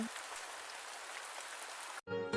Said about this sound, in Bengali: পুকুরে বৃষ্টি পড়ছে